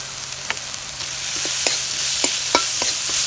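Chopped onions and crushed garlic sizzle steadily in a hot pan for a gongura (sorrel leaf) kadayal, with a few sharp spatula scrapes and taps over the constant frying hiss.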